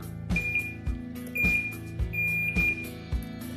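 A car remote key being programmed gives repeated electronic beeps, a short tone roughly every half second over low mechanical thumps, close and fairly loud with no speech.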